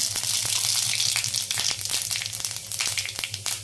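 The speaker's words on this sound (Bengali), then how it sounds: "তেল গরম হয়ে গেছে, তো এবার দিয়ে দিচ্ছি একটু পাঁচ ফোড়ন।" Panch phoron whole spices dropped into hot oil, a loud bright crackling sizzle full of rapid pops and spits, close and dense at first and thinning slightly as it goes, with no talking.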